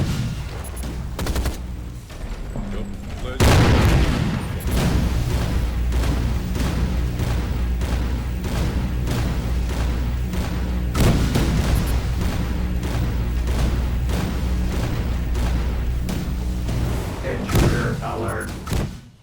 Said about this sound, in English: He's got homing missiles, seemingly endless barrages of homing missiles.